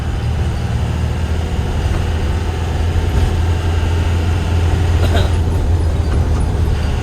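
An Isuzu Elf Short truck creeps off on a released clutch without throttle, a loud steady low diesel rumble with road and cab noise throughout.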